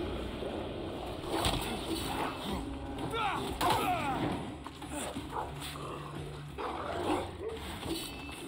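A dog in the game Banishers: Ghosts of New Eden gives a few scattered barks and yips amid ambient game sounds. Someone talks over parts of it.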